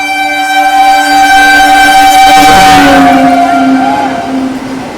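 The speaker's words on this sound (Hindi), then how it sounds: "आज का पहला ओवरटेक 2246 नई दिल्ली वाराणसी वंदे भारत एक्सप्रेस" A Vande Bharat Express, the New Delhi–Varanasi train, overtakes on the main line, its tonal hum and rushing roar swelling loudly to a close peak midway, then easing off as it moves past.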